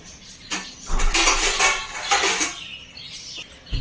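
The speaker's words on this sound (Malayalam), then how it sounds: "അരി വേവിക്കാനായിട്ട് നമുക്കൊരു പാത്രം എടുത്തിട്ട് വരാം" A cooking pot for boiling rice is fetched and handled, giving off a few metallic clanks and rattles, close and fairly loud, with quieter shuffling in between and a final knock at the end.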